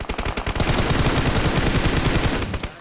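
Sustained automatic gunfire in the mobile battle royale game PUBG Mobile, a rapid, loud stream of shots with no pauses, tailing off at the very end.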